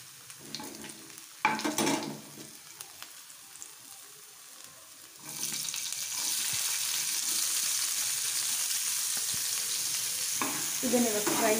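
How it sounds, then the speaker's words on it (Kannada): Onions fry and get stirred in a pan for a capsicum curry. Scraping stirs come first, then a loud, steady sizzle fills the rest, with spatula scrapes near the end. No one speaks. "ಇದನ್ನು ಇವಾಗ ಫ್ರೈ ಮಾಡ್ಕೊಳ್ಳಿ ಚೆನ್ನಾಗಿ."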